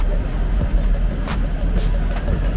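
An old German volunteer fire brigade fire truck rolls along in first gear, its engine a loud, steady close rumble from inside the cab with faint voices mixed in.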